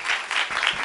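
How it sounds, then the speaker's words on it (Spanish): Applause from an audience after a talk on urban ecology and sound, a short burst of many hands clapping at moderate loudness, heard alone. "un aplauso"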